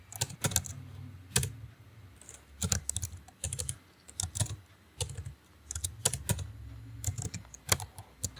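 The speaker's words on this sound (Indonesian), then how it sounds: "Di sini saya akan ketik seperti ini." Typing on a computer keyboard while writing code in a text editor, close and clear bursts of rapid key clicks with short pauses and occasional louder keystrokes.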